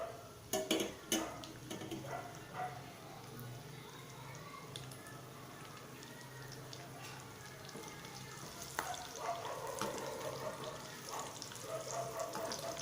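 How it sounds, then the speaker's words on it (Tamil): Sliced onions and curry leaves fry in hot oil for a village-style fish curry, a low steady sizzle with pan and utensil clatter, mostly under a voice explaining the cooking. "எண்ணெய் காஞ்ச உடனே வெங்காயமும் கருவேப்பிலை இலையும் போடலாம்"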